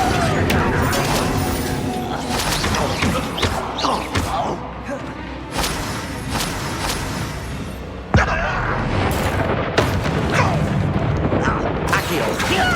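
In the Hogwarts Legacy video game, Confringo blasting spells go off as loud booming bursts among busy combat noise, with a sharp impact near the end and voices over the action.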